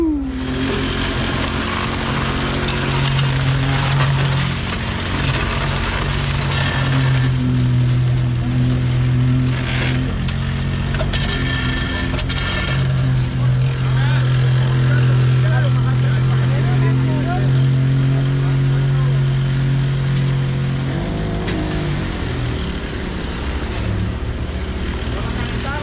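A 57 meter concrete pump runs during water priming with a loud, continuous engine drone and rhythmic hydraulic surging, while people talk over it.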